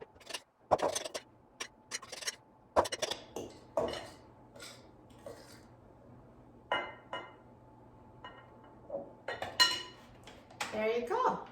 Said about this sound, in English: I'll just take a spoon and divide it between the muffin cups in the air fryer.